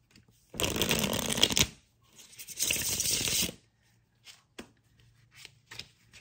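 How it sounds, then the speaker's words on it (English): A deck of tarot cards is shuffled in two long riffling bursts, close and crisp, followed by a few lighter taps and card handling sounds; no talking. "I'm going to give it a good shuffle"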